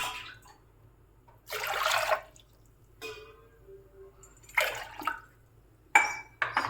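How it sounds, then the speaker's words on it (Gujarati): Two glasses of water tipped into a pan on the stove for boiling mung beans, heard as a few separate splashing pours with short quiet gaps, close by. "તેમાં 2 ગ્લાસ પાણી નાખીશ."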